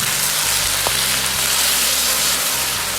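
Wood ear mushrooms with green and red peppers and onion sizzle steadily as they are stir-fried in a wok, a loud continuous hiss with faint knocks of a spatula underneath.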